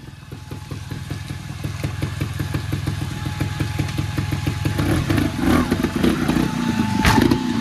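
A trials motorcycle rides over obstacles during training, its mid-pitched engine chugging rhythmically and close, then revving harder toward the end.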